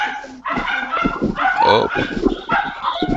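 Several dogs bark, yip and whimper close by indoors, a busy overlapping run of barks under a brief spoken word during a live foot reflexology lesson.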